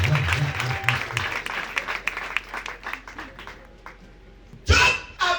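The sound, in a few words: congregation applauding in church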